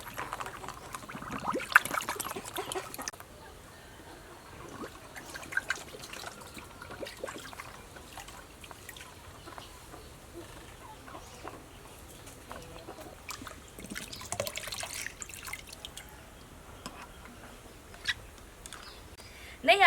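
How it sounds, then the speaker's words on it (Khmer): Chicken eggshells washed under running water, a soft steady trickle with faint splashing that runs throughout, louder bursts near the start and around the middle, with no talk over it. "ខ្ញុំចាប់ផ្ដើមលាងសំបកពងមាន់នេះ"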